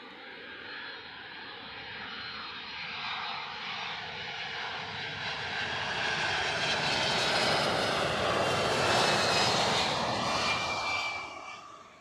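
An airliner passes at Heathrow Airport, its jet engine roar building gradually to a broad, loud peak before dropping off at the end, with no talk over it.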